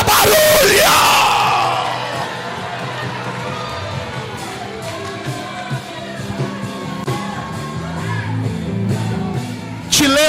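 A church congregation at a leaders' and workers' school gathering in São Paulo erupts in loud yells, whoops and cheers, a dense roaring crowd that peaks at the start, then stays steady with scattered shouts rising above it.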